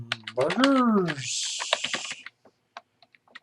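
A person speaks briefly, then fingers tap a computer keyboard in a scattered run of light, close clicks.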